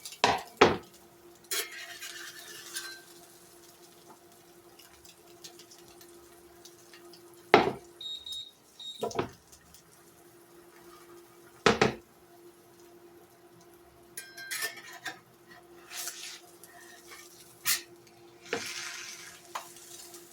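Food frying in a buttered skillet: a steady low sizzle runs throughout, broken by sharp clinks and scrapes of a utensil against the pan as the food is stirred and flipped, close and fairly quiet.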